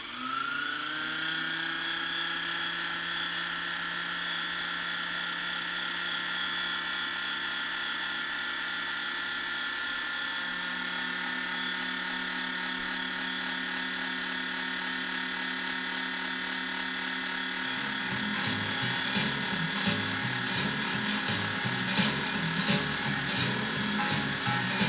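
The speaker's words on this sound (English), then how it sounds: "That's the way a motor sounds." A 1952 Singer 301 sewing machine motor runs steadily while winding a bobbin, giving a smooth, loud whine that holds an even pitch, then turns rougher and slightly louder with added rattle toward the end.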